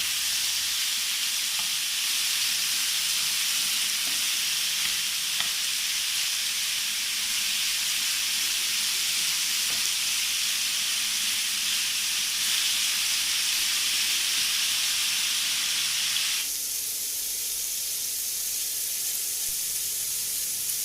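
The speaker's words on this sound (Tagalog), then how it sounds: "I-fry lang po natin ang isang side for 3 minutes or until mag-brown ang color nito." Soy sauce chicken frying in a pan, a steady loud hiss of oil that runs unbroken, easing slightly lower near the end.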